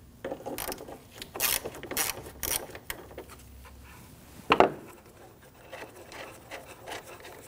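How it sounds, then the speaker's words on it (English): A ratchet removes 8mm screws from the air filter base on a 2010-2019 Ford Taurus 3.5L V6, giving several bursts of quick clicking turns, then a louder metallic clunk as a part shifts, close and otherwise quiet. "Let's go ahead and remove our 8mm screws up top here."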